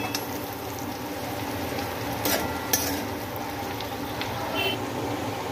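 A home-style ivy gourd and potato stir-fry seasoned with masala being stirred in the pan, a soft continuous sizzle under a few brief scrapes and clinks, fairly quiet and without voices.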